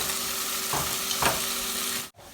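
Lightly browned pork fries in a pan with a steady close sizzle, as two scraping stirs sweep through before a brief clatter and a sudden quieter pause near the end.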